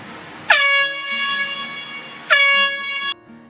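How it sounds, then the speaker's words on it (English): Two loud, blaring air horn blasts, the first about two seconds long and the second shorter, each cutting off sharply over a quiet background. "we have an air horn, like what you'd hear at a football game or at a hockey game"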